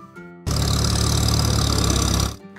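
A car engine sound effect roars in abruptly after a short musical lead-in, a loud sustained vroom lasting about two seconds before cutting off back into light music.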